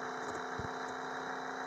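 Car engine in the Offroad Car X driving game, a steady droning idle hum with a constant tonal whine, held evenly throughout with a brief low thump partway in, no talking.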